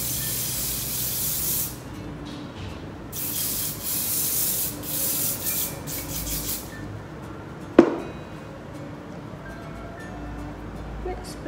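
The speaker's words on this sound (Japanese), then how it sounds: "スプレーをしていきます。" Hairspray hisses onto styled bangs in several close bursts during a hair arrangement, with a sharp click partway through followed by quieter handling.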